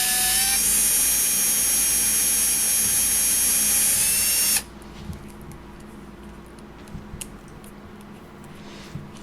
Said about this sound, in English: Drill straight down the rolled over post.